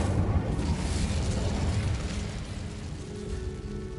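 Whooshing burst of flame from the Incendio fire spell in Hogwarts Legacy, a loud rumbling blast up front that tails off into a fading, lower roar over a few seconds.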